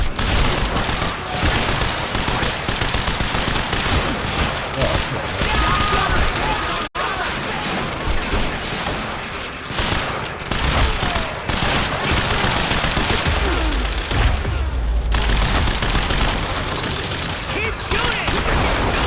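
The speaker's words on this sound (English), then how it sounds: "You can clearly see I'm shooting this motherfucker." Rapid gunfire from shooting in the video game Quantum Break, dense and continuous throughout under game sound and voices, with bursts blending into a steady noisy barrage.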